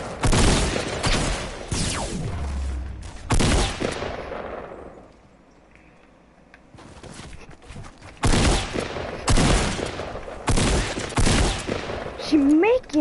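Gunfire from weapons in Fortnite, loud rapid automatic bursts and heavy shots that come in several clusters, broken by a quieter stretch, with a voice talking over parts of it.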